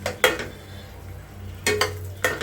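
Fried prawns are tipped into ghee roast masala in a pan, giving a few sharp clanks and scrapes of a spoon against the pan over a low sizzle, with quieter stirring in between.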